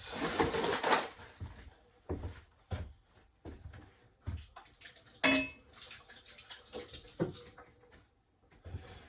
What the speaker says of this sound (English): Right, so wash your hands.